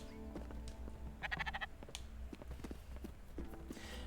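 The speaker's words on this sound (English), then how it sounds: "Hey, Sheeps." Sheep bleating in the video game Spiritfarer, a faint wavering bleat amid soft clip-clop hoof sounds and background game music.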